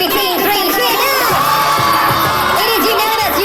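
A crowd at a Just Dance event shouts and whoops for Team 3, a loud, continuous wall of excited cheering voices filling the whole moment.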